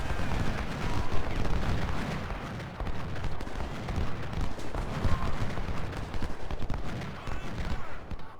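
Cannon fire and musketry rumble through a Civil War battle in the strategy game Ultimate General: Civil War, a dense, continuous roar of booms and crackling volleys with heavier thumps rising and falling throughout.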